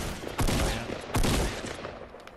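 Two loud, close gunfire bursts in the video game Fortnite, each a sharp broadband crack that fades over a second or so, spaced about three-quarters of a second apart, with no talk over them.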